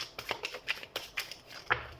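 Tarot cards being shuffled by hand, a series of short papery riffles and flicks arriving in quick uneven bursts, close and fairly quiet, with no voices.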